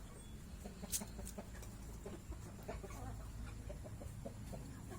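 Chickens cluck quietly at a distance over a steady low background hum, with scattered short calls and one sharper peep.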